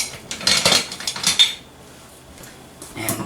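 A metal whisk and other utensils clatter and clink against dishes in a kitchen, a few bright bursts of rattling close by, then a brief pause before another short clatter.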